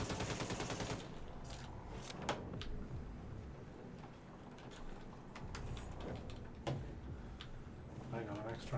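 Video game gunfire in a co-op shooter, scattered sharp shots and short rapid bursts over a busy background, with talk mixed in.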